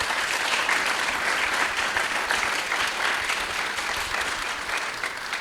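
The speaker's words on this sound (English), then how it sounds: "Let's give these gentlemen a round of applause." An audience applauds two Senate candidates coming out at a Democratic roadshow in Ruston. The clapping is steady, dense and moderately loud, and it holds evenly for several seconds with no talk over it.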